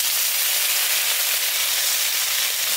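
Black cumin and dried chili paste sizzling in hot oil, a steady, bright, continuous hiss heard close up with no talking.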